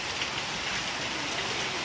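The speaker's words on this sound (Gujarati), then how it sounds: "અને બહાર વરસાદ તો બહુ ફૂલ પડો ભાઈ." Heavy rain pours steadily outdoors, a dense continuous hiss of drops with no talking.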